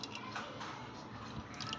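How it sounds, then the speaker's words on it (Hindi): Ghee is poured into a cooking pot while making halwa, giving a short, soft liquid dribble with wet dripping sounds. "अब हम इसमें थोड़ा सा घी डाल रहे हैं एक बर्तन में।"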